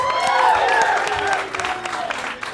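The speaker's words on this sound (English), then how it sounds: "Clap if you're in your 30s." A comedy-club audience bursts into a short round of clapping and cheering that fades after about a second and a half, leaving scattered claps.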